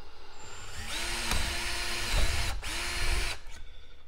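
A power drill whirs in several short bursts while drilling PVC pipe, spinning up and winding down with brief pauses between, close and fairly loud.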